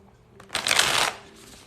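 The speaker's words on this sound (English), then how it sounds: "Let me do some cards on him." Tarot cards shuffled in one quick burst of riffling, fairly close and moderately loud, with quiet room sound before and after and no talking.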